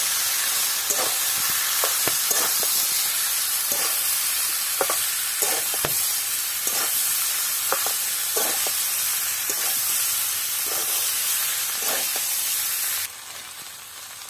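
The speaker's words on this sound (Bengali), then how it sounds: "এবার আমি আলুটাও দিয়ে দিই, সেদ্ধ করে আলুটা। এবার আমি কষাবো।" Boiled potatoes sautéed with turmeric in a pan for vegetarian aloo dum, a steady close sizzle broken by repeated scraping stirs of a spatula, with no talking.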